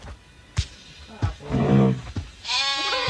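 Sheep in the Mini World video game bleating several times, a wavering cry mid-clip and another near the end, mixed with sharp clicks and taps, fairly close and clear.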